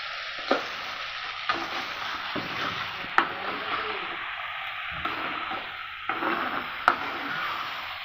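Food, apparently chicken, is stirred in a cooking pan over a steady low sizzle, with sharp utensil scrapes and knocks against the pan at irregular intervals, close and moderately loud.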